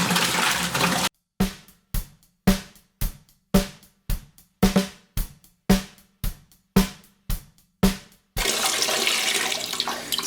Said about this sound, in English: So what I'm gonna do is put some water in first.